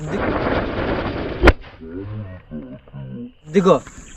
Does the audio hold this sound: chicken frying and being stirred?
no